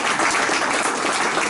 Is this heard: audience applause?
yes